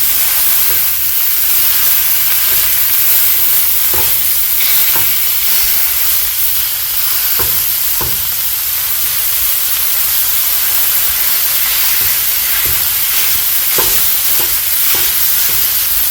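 80-20 ground beef browns on a Hasty Bake griddle with a constant close sizzle and hiss, punctuated by occasional light spatula taps and scrapes, with no voices.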